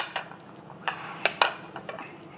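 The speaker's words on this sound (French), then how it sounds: "tout ce qu'on va faire, c'est écraser la banane à l'aide d'une fourchette" A fork mashing a banana roughly in a bowl, a few scattered light clinks and taps of metal against the dish, close and sparse.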